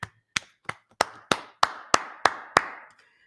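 Hands clap in a classroom gathering: nine sharp, evenly spaced claps in a steady rhythm, loud and close, then stop.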